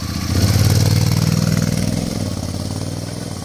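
A motorcycle on a long-distance road trip pulls at full throttle, its engine a loud, steady, close drone with a slight rise then an even sustained roar.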